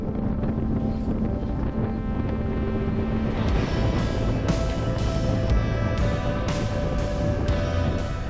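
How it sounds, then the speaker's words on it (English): Strong wind buffets a sailboat in the Patagonian wilderness, a loud, steady roar of gusts and rushing water, with the jib flapping wildly in repeated sharp snaps during the second half. "The wind swirled again, sending the jib into a frenzy"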